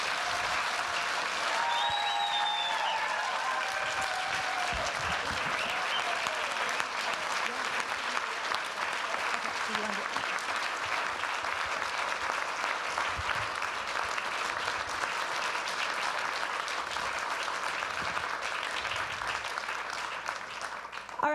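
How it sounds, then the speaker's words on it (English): Sustained audience applause fills a conference general session hall, steady and dense throughout with a few cheers and whistles rising above the clapping near the start, fading slightly toward the end. "I'll give you time to clap because they're awesome"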